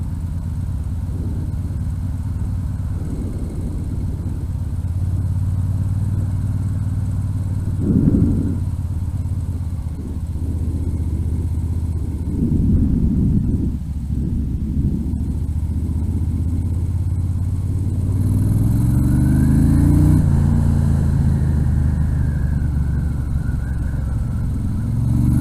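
A 1973 Moto Guzzi V7 Sport motorcycle ridden off-road, its engine droning steadily and close, with the revs rising toward the end and no talk over it.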